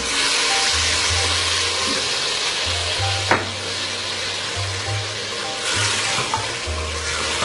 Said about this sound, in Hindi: साथ ही इसमें शामिल कर देते हैं मसाले भूनने के लिए आधा गिलास पानी।